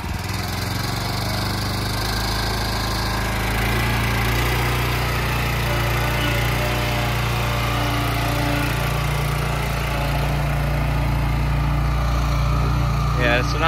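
A BOSS Snowrator sidewalk snow machine engine runs steadily near and loud, a small-engine drone held at speed with only slight shifts in pitch, while a voice speaks briefly over it.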